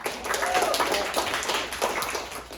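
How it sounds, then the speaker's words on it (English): Audience applause at a team competition event, a dense, even wash of clapping from a crowd that swells and fades over a couple of seconds. "give yourselves a round of applause for being here"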